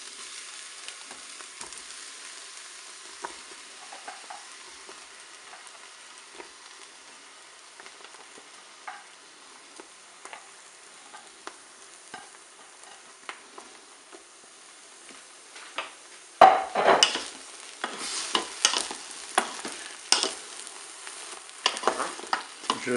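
Eggplant rounds sizzle and fry in a Cookeo multicooker over onions already browning, a steady soft crackle that grows louder and busier with stirring scrapes near the end.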